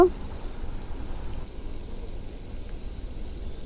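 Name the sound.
malpua pitha frying in hot oil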